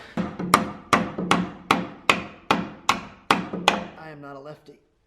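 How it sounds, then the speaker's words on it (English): Nails being hammered to fix an electrical outlet box to a wall stud, about nine sharp evenly spaced hammer blows in quick succession, close and clear, followed by a brief soft voice. "there's 2 nails on here, so you nail that to the stud."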